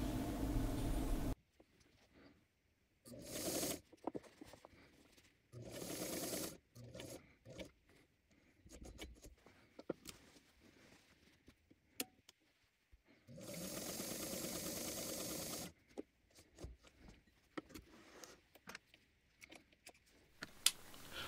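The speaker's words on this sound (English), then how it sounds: "So I'll take this over to the machine and reinforce those edges and sew this up." A sewing machine stitches and reinforces fabric edges and a back seam, running in bursts of steady mechanical whirring separated by pauses with small clicks and handling noises, fairly quiet overall.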